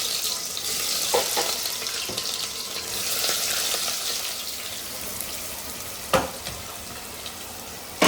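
Chopped onions and green chillies frying in a pan for a biryani and farm chicken meal, a constant hiss of hot oil with occasional stirring knocks and a sharp clank later on, no voices.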